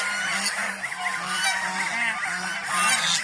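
Domestic farm geese honk repeatedly at close range, a loud overlapping chorus of nasal calls in a steady rhythm.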